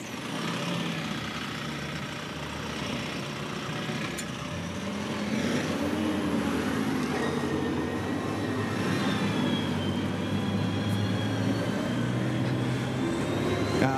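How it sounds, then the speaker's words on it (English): Aebi municipal vehicle with hydrostatic stepless transmission driving at low speed, a steady engine drone that rises slightly and holds, continuous and moderately near with no talk. "you hear already now that we are working here with a stepless transmission"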